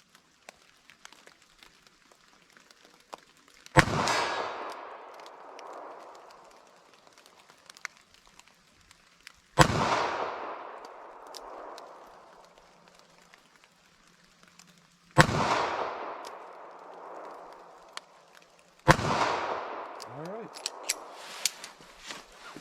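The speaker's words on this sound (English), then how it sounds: "So 380 ACP, should get this. Just gonna aim center mass and fire kind of slow." Four loud, sharp .380 ACP FMJ pistol shots fired slowly at a target outdoors, each a sudden crack followed by a long rolling echo, spaced several seconds apart.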